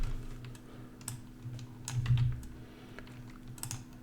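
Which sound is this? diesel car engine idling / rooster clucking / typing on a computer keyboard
typing on a computer keyboard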